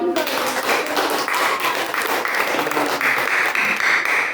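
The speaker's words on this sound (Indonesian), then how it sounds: "Tepuk tangan untuk kita semua." An audience claps steadily and loudly throughout the short stretch, a dense, even wash of applause with voices faintly underneath.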